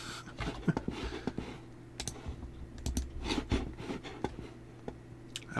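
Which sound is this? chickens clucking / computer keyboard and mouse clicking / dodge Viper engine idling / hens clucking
computer keyboard and mouse clicking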